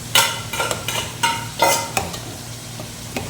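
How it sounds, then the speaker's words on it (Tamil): Vegetable upma with rava being stirred in a pan: a run of scraping, swishing strokes in uneven bursts, close and fairly loud, with a soft sizzle underneath and no talking. "கிண்டிக்கிட்டே இருக்கணும்"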